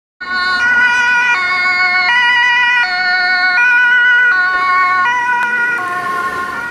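A toy ambulance siren plays a bright, electronic two-tone wail, alternating steadily between high and low pitches, loud and close throughout.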